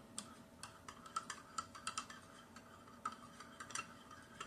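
A spoon clinks steadily against the side of a cup while stirring instant coffee, giving a quick, fairly faint series of light metallic ticks with no talking.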